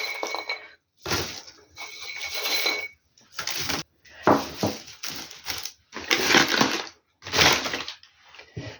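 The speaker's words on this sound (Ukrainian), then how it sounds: "і перетру отакою чалочкою горіхи" Repeated crunching and cracking bursts, close and loud, in irregular clusters with short pauses between, as walnuts are crushed by hand.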